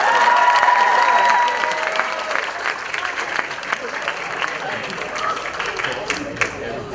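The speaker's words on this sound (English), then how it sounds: "can we give a big round of applause to K-Dance Club for doing that?" An audience at an awards ceremony claps for a dance club's performance, a dense burst of applause that is loudest at the start, then thins into scattered claps under murmuring voices and talk.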